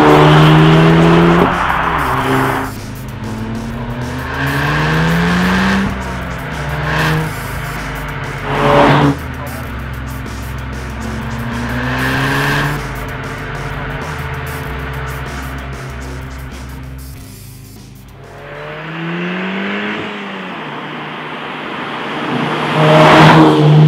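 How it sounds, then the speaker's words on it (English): A 2015/2016 Audi TTS (8S) with manual gearbox driven on winding B-roads, engine rising and falling through repeated gear changes and revs, heard from inside with brief tire noise and no speech. "So let's drive on some nice B-roads here, as we always do, and see what this car feels like."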